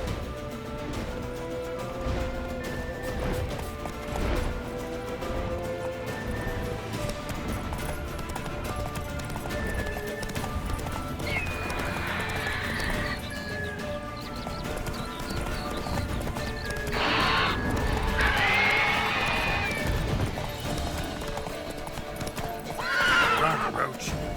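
Roach the horse in The Witcher 3 galloping with steady rhythmic hoof clip-clops, breaking into several loud neighs and whinnies partway through, with a voice speaking over the hoofbeats.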